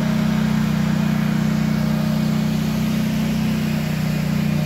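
Drive motors of an Aeromovel people mover run in its machine room, giving a steady, unbroken low electric hum with a faint hiss above it, constant in level throughout.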